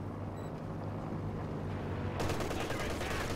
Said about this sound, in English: I think this is British artillery or some sector artillery